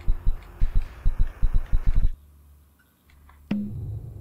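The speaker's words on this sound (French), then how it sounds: "C'est les battements de cœur" Heartbeat sound effect from the horror computer game KinitoPET: a steady run of loud, low double-thump beats for about two seconds, then near silence and a sudden low rumbling swell.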